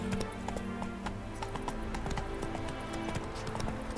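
A horse gallops in The Witcher 3 video game, with rapid, even hoofbeats clattering close and loud throughout.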